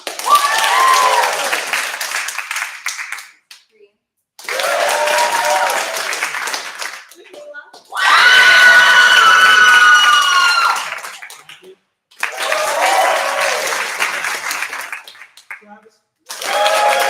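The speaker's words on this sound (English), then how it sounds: "Let's clap when they say their names." Group clapping in a class setting comes in four or five separate bursts, each a few seconds long with near-silent gaps between, mixed with loud voices and cheering during each round.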